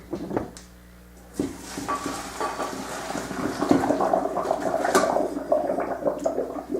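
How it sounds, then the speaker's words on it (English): Hot pasta water pours and gurgles through a metal colander into a sink, a sloshing rush that swells and continues after a brief clatter near the start. "now I've drained this pasta into the colander"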